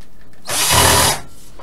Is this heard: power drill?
yes